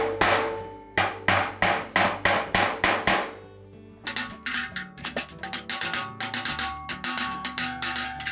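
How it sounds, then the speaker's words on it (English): A small ball peen hammer taps the metal tub of a Whirlpool washer in a quick, even rhythm, each ringing strike distinct and close, with a second faster run of taps after a short pause. "tap those back a bit with a small ball peen hammer"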